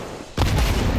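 A grenade blast in a Counter-Strike pro match, a sudden loud booming burst after brief quiet that rumbles on to the end.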